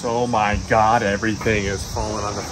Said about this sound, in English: That noise is the cicada bugs